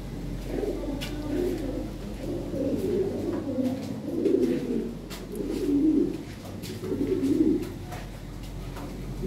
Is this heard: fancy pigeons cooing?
yes